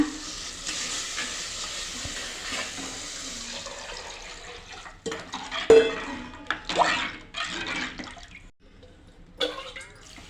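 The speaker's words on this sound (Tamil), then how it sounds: "இதை எடுத்து ஊற்றி கொதிக்க விடணுங்க" Fish curry pours steadily into a pot for several seconds, then it bubbles and sizzles amid intermittent clanks of a pan.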